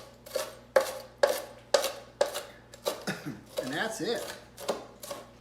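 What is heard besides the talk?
knife chopping cooked bacon into bits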